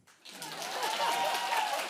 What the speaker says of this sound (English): And why don't you clap?